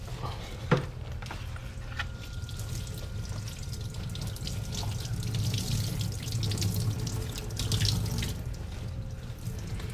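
Water runs steadily from a tap into a sink, a continuous splashing stream with slight changes as a foam-lined Crown Victoria P71 Police Interceptor seat cover is rinsed under it.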